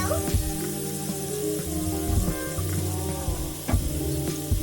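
Minced garlic sizzles steadily in a hot pan, a continuous crackling fry at moderate level with a few louder spattering bursts, heard alone without talk.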